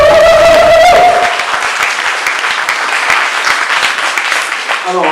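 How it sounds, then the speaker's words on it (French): An audience bursts into steady applause, dense clapping that holds for several seconds after a voice and a brief tone at the start, with a speaking voice returning at the very end. "je ne sais pas si on est capable d'applaudir plus fort"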